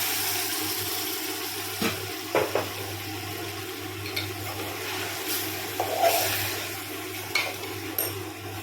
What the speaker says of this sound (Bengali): ভালোভাবে কষিয়ে নিই আর একবার একটু জল দিচ্ছি দিয়ে আরও কিছুক্ষণ কষিয়ে নিই